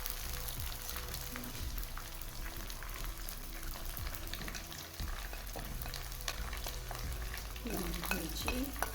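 Ginger, garlic and spices fry for chicken karahi, with a continuous sizzle and intermittent stirring and scraping in the pan, fairly quiet and with no talk.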